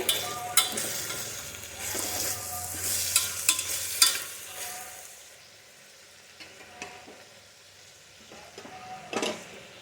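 Ginger and garlic stirred in a frying pan, with a busy stretch of scraping and sizzling that eases into quieter, sparser stirring and a few clinks later on.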